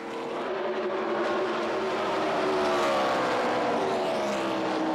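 NASCAR stock cars in a 1996 race passing car number 38, a loud, continuous engine roar close by whose pitch sweeps and shifts as the pack goes past.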